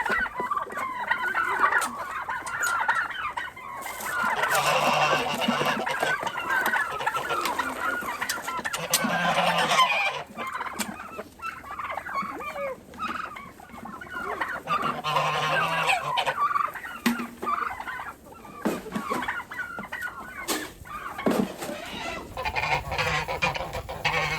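Turkeys and other fowl in a muddy covered pen call continuously, with gobbling and honking calls rising and falling in overlapping bursts, fairly close and loud.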